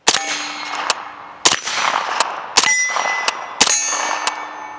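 Four sharp, loud gunshots from a Springfield Kuna pistol-caliber firearm fired in semi-automatic mode, spaced about a second apart, each with a metallic clang and a ringing tail.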